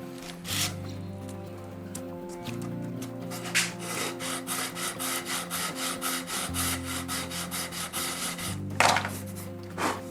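Steady back-and-forth rasping of a sanding beam on a guitar neck, rhythmic strokes repeating close by with a low tonal hum underneath.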